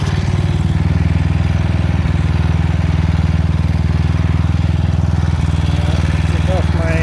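A small engine powering a bike push trailer runs loud and steady throughout, its rapid buzzing drone joined by a squealing drive belt, with no talk over it.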